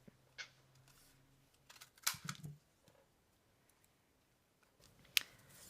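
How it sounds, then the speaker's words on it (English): A handheld paper punch cuts star shapes from a mini paper pad, giving a few sharp separate clacks and crunches close by with quiet pauses between, no talk. "I'm going to punch just one star from a few of the patterns from this mini pad."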